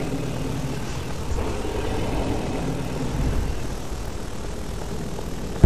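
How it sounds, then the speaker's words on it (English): A helicopter in the video game Alien Shooter Vengeance gives off a loud, steady rotor and engine drone that holds constant throughout, with no talk over it. "A helicopter."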